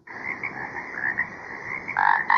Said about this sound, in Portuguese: o som de sapo